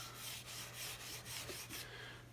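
Fine steel wool scrubs dirt from an early 19th-century wooden jack plane in quick, rhythmic rasping strokes, about eight close, soft rubs in a row with no talking.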